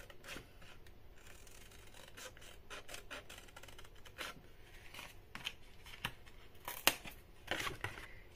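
Cardboard for a handmade keepsake box is cut along a drawn line. Quiet, close rasping and snipping strokes repeat unevenly, with a few sharper cuts toward the end.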